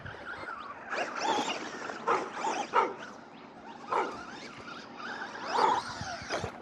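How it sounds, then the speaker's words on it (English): A dog barks and yips repeatedly in an uneven run of short, moderately close calls with some whiny tones, while the owner plays with RC cars on an outdoor trail. "sorry about the dog barking"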